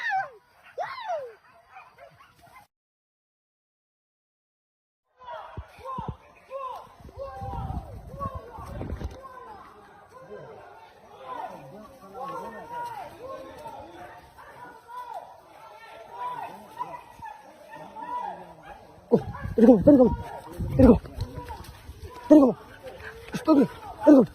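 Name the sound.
hunting dogs barking during wild boar hunt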